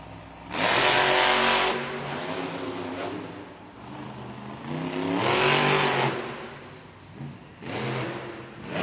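Grave Digger monster truck engine revving hard in repeated bursts at a timed racing event, loud and fairly close, with quieter idling gaps between the surges.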